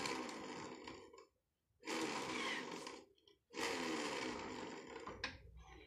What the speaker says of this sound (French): Je mets la dynamo, voilà.